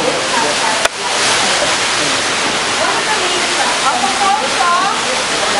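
A waterfall at Manila Ocean Park pours in a steady, loud broadband rush that fills the whole stretch, with a brief knock near the start and faint voices in the background.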